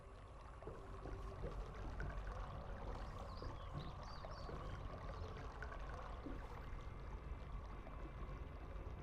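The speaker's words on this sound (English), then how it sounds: "Why do I hear sounds of water?" Water in the Riven video game pours and trickles steadily in a continuous flowing wash, moderately close, with faint lapping and ambient rumble underneath and no voices.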